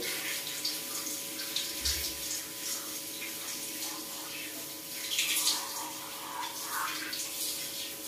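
Warm water runs steadily from a tap or shower head while a dog is being bathed, a continuous, fairly quiet hiss and splash with brief surges and no talk.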